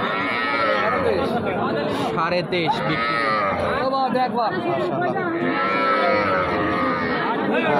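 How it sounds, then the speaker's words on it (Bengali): A two-month-old Friesian heifer calf moos loudly and repeatedly over the steady chatter of a crowded cattle market. "ফ্রিজিয়ান গরু বাচ্চা, বকন বাচ্চা"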